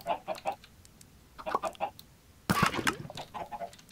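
Chickens clucking in the Minecraft video game, a few short bursts of game clucks in quick groups, then a louder clustered burst of clucks and squawks near the middle, no voices.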